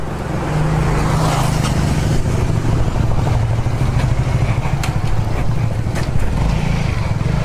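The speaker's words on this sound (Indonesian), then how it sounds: "Tahu ini dia nyetep motor." A motorcycle engine runs and revs steadily close by, a loud continuous rumble with throaty pulsing that rises slightly in places, and no talking over it.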